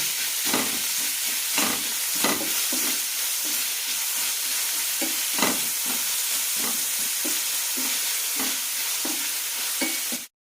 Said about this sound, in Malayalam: ചെറുതായി ചോക്കുന്നവരെ നന്നായി വഴറ്റിയെടുക്കാം.